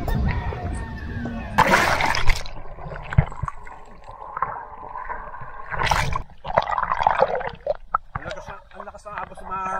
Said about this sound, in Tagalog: Ang lakas ng agos sa mga tol.